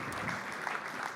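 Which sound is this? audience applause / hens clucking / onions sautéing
audience applause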